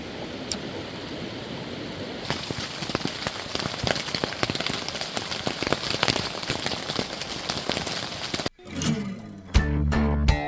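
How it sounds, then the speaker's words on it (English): Steady heavy rain hisses and patters continuously on a moose hunting camp in Alaska, then abruptly cuts off, followed by a brief low humming tone. "It's been dumping rain"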